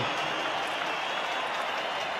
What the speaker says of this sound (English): So a big cheer then for the South African team.